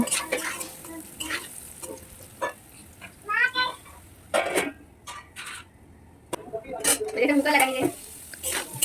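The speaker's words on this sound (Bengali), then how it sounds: "দিচ্ছি অল্প হলুদের গুঁড়ো আর পরিমাণ মতো লবণ দিয়ে নেড়ে চেড়ে এটাকে ঢেকে দেব দু মিনিটের জন্য" Potatoes with turmeric and salt are stirred in a pan, with intermittent sizzling, spoon scrapes and clinks against the metal while a person talks over parts of it.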